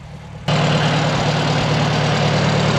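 Farm vehicle engine idling in freezing cold after a long warm-up with the carburetor icing, starting abruptly and then holding a steady, loud, low rumble close by.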